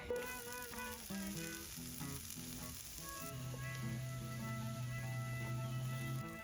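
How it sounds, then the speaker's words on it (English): Summer vegetables and chanterelle mushrooms sizzle steadily in a hot pan, a continuous close frying hiss running beneath tuneful background music. "The veggies go in."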